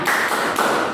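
A group of schoolchildren claps out the rhythmic tepuk semangat chant in a classroom, three quick bright claps in an even beat, loud and close, with no voices over them.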